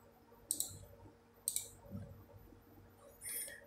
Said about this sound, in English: Then we double click the VMS.